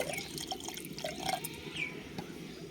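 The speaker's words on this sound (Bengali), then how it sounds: "আর একটু জল দিয়ে দেব।" A little water is poured into a cooking pot with cardamom while preparing country chicken biryani, giving a faint, brief trickle with a few scattered drips.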